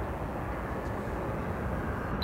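A Boeing 747, the last one ever built, lands at Chicago O'Hare with a continuous broadband roar of jet engines heard alone, steady and fairly loud throughout.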